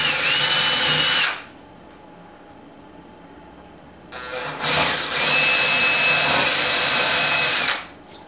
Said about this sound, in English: I'll just drill these pilot holes in.